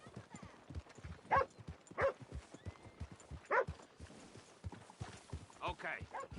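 Horse hooves clip-clop in Red Dead Redemption 2 in a loose, uneven rhythm with a few louder hits standing out, mixed with soft rustling and faint talk in the background.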